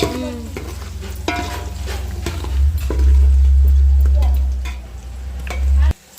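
Onion, green chilli and ginger garlic paste frying and being stirred in a pan while making egg biryani: a steady close sizzle with scraping spoon strokes, which swells louder midway, then cuts off abruptly near the end.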